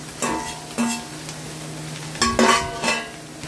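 Chopped meat and offal for Filipino bopis go into a hot pan, with several close clanks and scrapes of utensils against metal over a faint sizzle.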